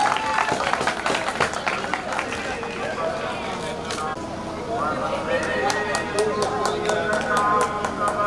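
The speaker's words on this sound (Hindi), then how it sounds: "तालियों के साथ स्वागत कीजिए आप लोग की। तो तालियां बजती रहनी चाहिए।" Audience claps steadily to welcome guests onto the stage at a devotional jagran event, a continuous patter of hand claps running under an announcer's amplified voice and crowd chatter.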